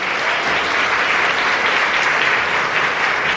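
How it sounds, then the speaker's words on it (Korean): Loud, dense applause from a concert audience welcoming a performer at a Korea–Japan 60th anniversary diplomatic concert, a steady wall of clapping with no talk. "큰 박수로 맞이해 주시기 바랍니다"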